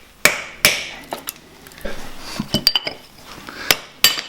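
Sharp metallic clanks and strikes ring out at irregular intervals while a rusty nut is worked loose from an old Ferguson tractor axle, a few loud hits spaced among quieter knocks, with no talk.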